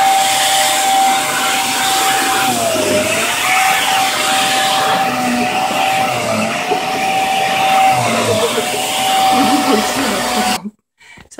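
Dyson DC37c Total Allergy vacuum cleaner running indoors, a loud continuous whining hiss with a steady tone that dips briefly a few times, close by, then cutting off abruptly at the end.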